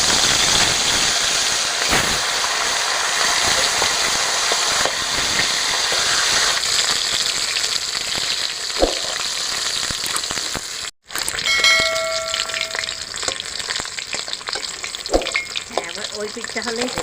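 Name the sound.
fish heads frying in hot mustard oil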